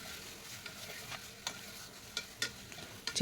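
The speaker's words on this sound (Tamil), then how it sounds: "சிக்கனை வந்து நல்லா வதக்கலாம்" Chicken pieces stir-fried in a pan for a chicken gravy, with a continuous sizzle broken by sharp scraping stirs that quicken toward the end, close and without speech.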